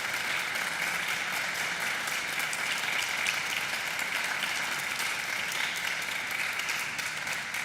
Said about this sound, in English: I usually don't get applause after I speak.